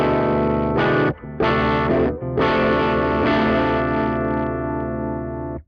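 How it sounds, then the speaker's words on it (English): Electric guitar played through a Peavey Studio Pro 50 1x12 combo amp on a clean tone, sustained strummed chords ringing out with two brief gaps before a final long chord decays, full and loud with no talking. "That's a pretty usable clean tone."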